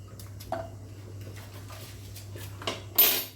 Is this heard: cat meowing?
no